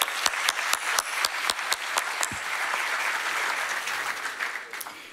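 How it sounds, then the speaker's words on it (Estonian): An audience at a talk applauds loudly for the event organizers: a few sharp, distinct nearby claps ring out in a rhythmic pattern over a building wash of crowd clapping that swells and holds before easing. "teeks ühe kõva aplausi korraldajatele"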